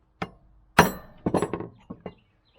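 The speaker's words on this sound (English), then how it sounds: "just put it in the hole and then strike it with a hammer" A hammer strikes a steel transfer punch set in a hole during tractor box blade repair, several sharp metallic clinks: two isolated taps, then a quick cluster of blows and two final lighter hits, close and clear.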